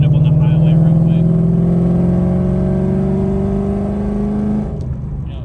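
Ford Mustang with a swapped Coyote engine cruising on a highway, a steady droning engine note with rising harmonics as it accelerates, loud and close throughout, easing off near the end.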